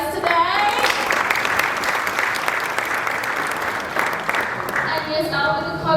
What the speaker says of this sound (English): give a big round of applause to yourselves for making it here tonight